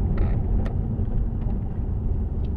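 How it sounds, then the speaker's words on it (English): A Ford Focus ST225 with a cold air intake and remapped tune drives on the road, heard from inside as a steady low engine and road rumble with no distinct revs. "hoping it picks up some of the car's noises and that"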